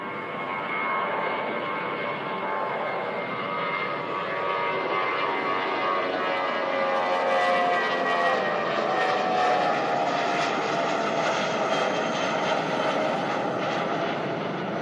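Jetstar jet airliner taking off for Auckland from Christchurch Airport, a broad steady engine roar swelling slightly as it builds power, heard from a distance with no voices.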